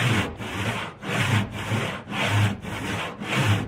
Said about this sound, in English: this saw he set this saw pretty well, so it'll cut straight down right through varying grain